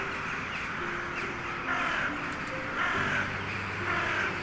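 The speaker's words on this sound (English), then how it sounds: "Gotta love some crow sounds. There's a lot of jackdaws in the background." Crows and jackdaws call outdoors in overlapping, repeated caws and sharper chacks, a busy flock sounding from moderate distance with no talking.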